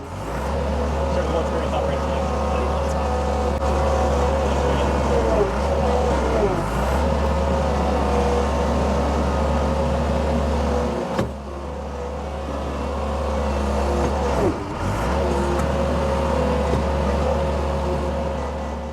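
Steady loud engine drone of a Case 1840 skid steer driving over rough, bouncy terrain between a pile and a dump area, with brief dips and rattling bumps as it travels.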